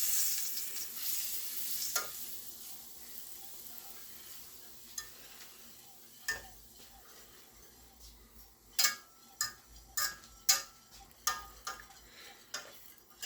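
Turkey wings are stirred in a wet, thick sauce in a pan: a faint simmering hiss under a run of sharp spoon clicks and scrapes, growing denser and louder toward the end, with no talking.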